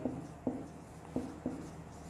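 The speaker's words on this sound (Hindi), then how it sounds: "अब मैं इसी सेंटेंस को थोड़ा सा मॉडिफाई करके लिखता हूं" Chalk or marker strokes on a classroom board while writing out a sentence: four quick, distinct taps and scratches spaced irregularly over a low room hum, fairly faint, with no talking.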